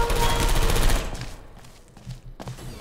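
Portal 2 sentry turrets open fire in a dense, loud burst of rapid automatic shots that stops abruptly after about a second, followed by quieter scattered mechanical clicks and thumps.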